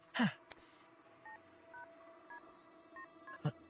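A series of short two-tone telephone keypad beeps, about seven evenly spaced presses, fairly quiet, bracketed by handling clicks at the start and end.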